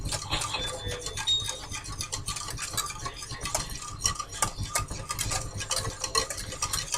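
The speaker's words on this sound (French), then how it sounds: "Donc je tourne de façon à ce que ça fasse un mélange homogène." A spoon scrapes and clinks steadily as cassava porridge is stirred in a pot on a warm hotplate, producing rapid rhythmic metallic taps and swishes at close range with no talking.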